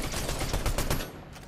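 Rapid bursts of gunfire in a Fortnite match, loud and close, rattling through most of the moment before tapering off at the end.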